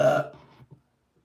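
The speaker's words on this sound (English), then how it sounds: "Confirmation burp." A single short burp, loud at the start and trailing off quickly into a few faint gurgles, alone with no talk, then silence.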